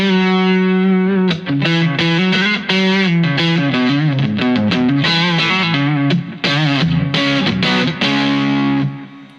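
Electric guitar played through a Wampler Tumnus klon-style overdrive into channel 2 of a Wampler Paisley Tube Screamer-style drive, giving a loud, saturated tone with sustained chords and picked notes across a continuous, dense passage.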